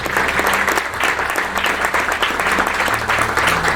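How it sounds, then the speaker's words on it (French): An audience at a graduation ceremony applauds warmly, giving dense, continuous, loud clapping that fills the room with no pause. "je demande à l'assistance de vous applaudir chaleureusement"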